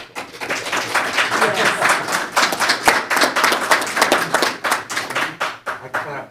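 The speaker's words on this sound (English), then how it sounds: "I clapped." A person in a council meeting room clapping hands, a quick run of sharp, evenly paced claps, close and prominent, with a few other hands joining faintly.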